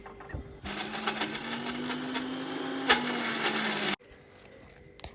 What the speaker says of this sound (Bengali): ধুয়ে নেওয়ার পরে এবারে ডালটাকে আমি মিক্সি করব